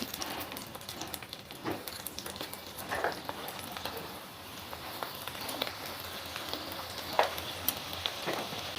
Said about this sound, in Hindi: आलूटा आम सेलो फ्राई टिके कर देबा, अल्प टिके तेल देकी धीरे धीरे ताको एमती रखिकी